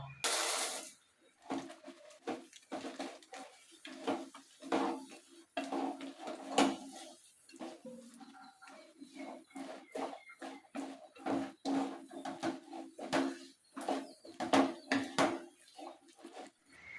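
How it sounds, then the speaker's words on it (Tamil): Peanuts are stirred into thick sugar syrup in a pan for peanut candy, giving quiet, irregular scraping and clattering strokes in a rapid, uneven rhythm with brief pauses. "இப்போ கடலையை கொட்டி கிண்டிடலாமா?"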